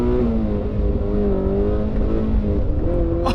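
Toyota 86 engine under full throttle from inside the car, a loud steady drone with rising harmonic tones as the revs climb, briefly interrupted by a gear change into third, with a faint background squeal near the end.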